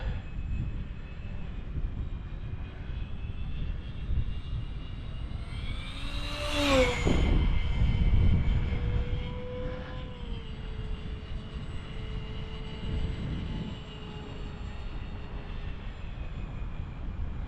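RC model jet engine on an ASW28 and Durafly Goblin flight on a sunny winter day, droning steadily at partial throttle, with a rising whoosh as the aircraft sweeps close overhead before settling back to a distant whine.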